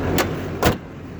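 Two quick solid thuds about half a second apart as the hood of a 2006 GMC Sierra 3500 pickup truck is shut, close and fairly loud over faint background hum.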